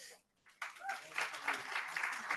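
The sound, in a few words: audience applause at conference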